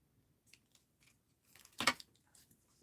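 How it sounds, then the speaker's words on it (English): Scissors make one crisp snip near the middle, close and clear, with a few faint rustles of paper and mixed-media materials around it. "Let's snip this off."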